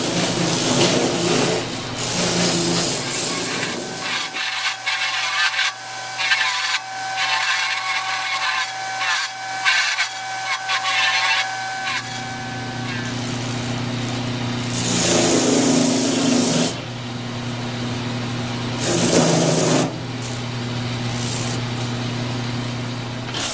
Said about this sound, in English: run it over the mop sander and smooth out all this stuff and clean it up a little bit